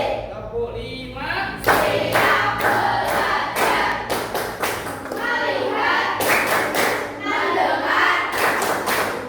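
A group of children in a classroom claps hands in a rhythmic "tepuk fokus" clap routine, loud sharp bursts of clapping in quick patterns with voices chanting along.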